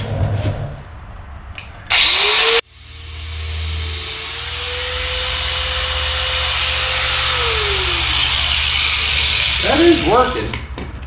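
A power drill whirs steadily into metal for several seconds while drilling holes for a Roxor side-dump exhaust, its pitch shifting under load, after a brief harsh burst; rattling clicks follow as it stops.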